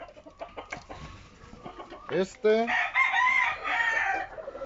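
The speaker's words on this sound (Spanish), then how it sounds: "Estos ya son gallos machos." Male roosters crow loudly and close in a poultry pen in Maravatío, Michoacán, one long rising crow following scattered clucking, while someone briefly speaks.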